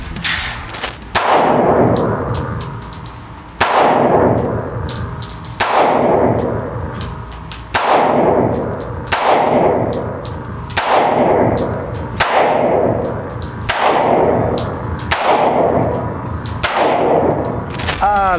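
About eight loud, sharp shots from a Sig Sauer P320 M18 pistol fired at a target 10 metres away, at steady intervals with ringing metallic echoes trailing each one.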